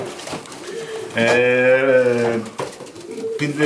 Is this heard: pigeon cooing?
yes